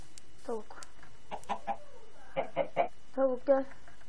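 Chickens cluck in short repeated bursts in the video game Minecraft, several close clucks spread across a few seconds with quiet gaps between them.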